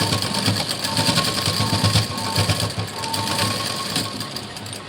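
A sewing machine stitches across a knot set at the center of a fabric tassel, running in a steady, fast mechanical whir with a faint rhythmic clatter, close and continuous throughout.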